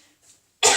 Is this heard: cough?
yes